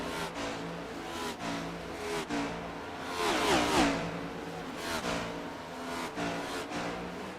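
A stock car engine on an oval at Dover in a Chop Shop Cup Series race, revving back up to speed after a hard wall hit, rising and falling in a steady loud roar with a brief sharper surge midway.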